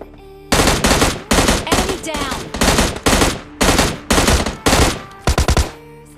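Rapid gunfire from the mobile battle-royale game PUBG Mobile Lite, loud close bursts of automatic shots in about eight rhythmic volleys with short pauses between them, no voices.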